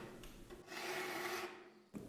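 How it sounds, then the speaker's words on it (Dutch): A hand saw rasps through a piece of wood in a single steady stroke, close and dry, with brief scraping at the start and end. "een zaag in je handen nemen en een stuk hout zagen"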